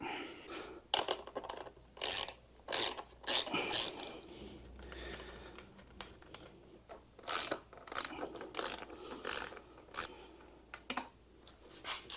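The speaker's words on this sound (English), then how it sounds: "I'm gonna get a wrench." A ratchet wrench clicks in short, uneven bursts as it turns the seat cover bolts on a 79Bike Falcon GT. The dry ratcheting is close and loud with pauses between strokes, and there is no talk.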